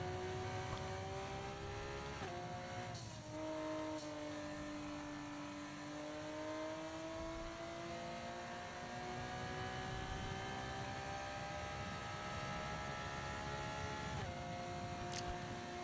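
A Formula 1 race car engine in the game F1 24 drones steadily at high revs, with pitch sliding up and down through gear changes and a couple of sharp shifts, heard alone without talk.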